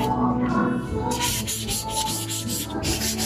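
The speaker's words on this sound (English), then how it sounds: "So if you'll see, the size of this sandpaper is 120, right? It's 120. It's 240. I am wrong. It's 240. It's a final sanding." Sandpaper of 240 grit rubs back and forth across a surface during final sanding on a house building site in the Philippines, giving close, steady scratchy strokes with brief pauses between them and no talking.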